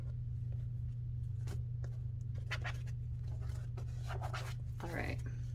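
Tarot cards are shuffled by hand in quick, irregular bursts of papery riffling and scraping, under a steady low hum with a voice speaking nearby.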